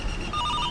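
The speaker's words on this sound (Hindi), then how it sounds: "देख कौन लावारिस औलाद मुझे फोन कर रहा है।" A telephone rings briefly, a faint electronic warble surfacing in the second half of a short moment in a dubbed South Indian romantic film scene.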